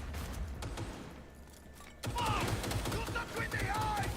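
Gunfire in the video game Cyberpunk 2077 Phantom Liberty: a rapid burst of automatic shots erupts midway and continues loudly over game sound and shouted voices.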